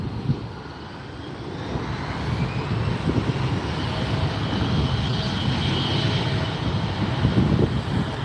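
A jet airliner roars at LAX airport in a loud, broad rumble that swells slightly as it passes, steady throughout with no voices.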